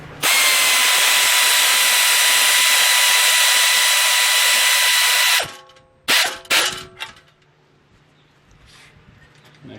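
A power drill tightens fasteners on a wind turbine assembly with one long, loud, steady whir lasting about five seconds, then stops abruptly, followed by a few short bursts and clunks as it is repositioned, all close up.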